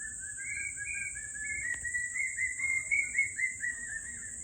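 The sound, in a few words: unfamiliar birds calling in a garden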